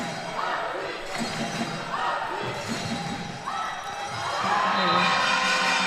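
Crowd noise at a men's World Cup 2023 third-place match between Switzerland and Singapore, a broad roar of spectators with scattered thuds of play, swelling toward the end under steady commentary.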